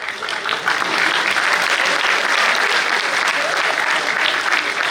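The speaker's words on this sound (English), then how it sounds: "you can clap for this quote, you can clap" Audience clapping at a success talk for CA students builds quickly into a loud, continuous round of applause that holds steady to the end.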